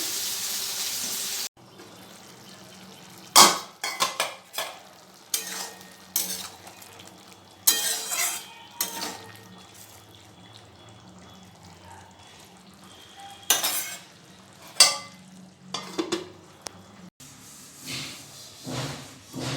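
Potatoes drop into a pan of fried okra and sizzle, with intermittent scraping stirs, clinks of a utensil and a few sharp knocks against the pan, all close and without speech.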